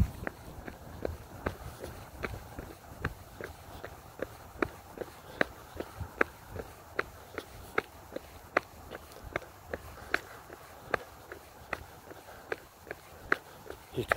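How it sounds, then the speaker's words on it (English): A runner with foot drop on a road, footsteps landing in a steady, even rhythm with sharp slapping impacts, moderately close over continuous low background noise. "You can hear my foot drop, which is my biggest issue."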